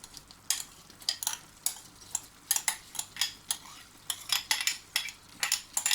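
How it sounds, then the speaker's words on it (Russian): Rice poured into a pot for Uzbek mashkichiri, with repeated short scraping, stirring clatters of utensil against the pot, close and fairly quiet, no talking. "Теперь кладем рис."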